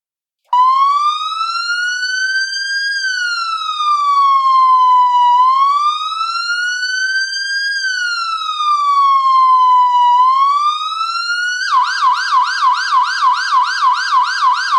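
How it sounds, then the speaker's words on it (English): Synthesized realistic emergency siren set in a far, spacious reverb, like a distant announcement speaker: a loud, steady wail sweeping slowly up and down over several cycles, then switching to a fast warbling yelp at the end. "now we have quite a realistic siren sound"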